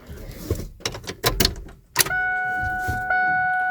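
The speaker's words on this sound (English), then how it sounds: "Oh, I heard a fuel pump prime." Inside a Ford F250 with a newly installed fuel pump, clicks and clunks of the key and cab give way to the pump priming as a steady electric whine that hums on and steps up in level near the end.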